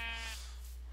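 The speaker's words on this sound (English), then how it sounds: "Ooh, lots of sheep." A single short sheep bleat from Minecraft, clear and fairly close, over a low steady background hum.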